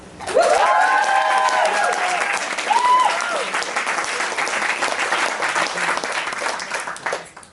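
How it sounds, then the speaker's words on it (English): A live storytelling audience bursts into sustained, loud applause that fills the room for several seconds before tapering off, with a few voices briefly audible near the start. "So please give him a round of applause."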